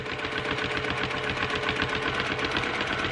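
A domestic sewing machine runs continuously while free motion quilting circles on a quilt, its needle clattering in a fast, steady, close rhythm with no talking.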